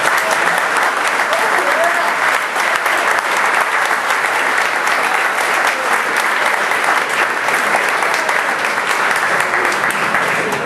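Loud, sustained applause from a group honouring soccer coaches at a regional youth development camp, dense steady clapping filling the whole stretch with a few voices mixed in.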